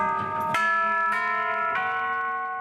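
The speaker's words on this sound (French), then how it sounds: "Presque 5000 tuyaux et un carillon composent le plus grand orgue de plein air au monde." The carillon of the world's largest open-air organ in Tyrol rings out three successive bright, sustained bell strikes, each ringing on and overlapping the last, with no voices.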